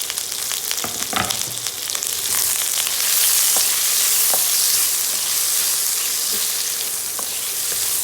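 Onion and dry red chilies fry in oil for ginger chicken with a loud, continuous hiss and crackle, a few sharp pops and stirring clanks early on, with no talking.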